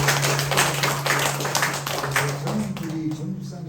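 A church congregation claps during a worship service, a steady crowd of hands patting together, moderately loud, with a low hum beneath and a voice briefly joining near the end.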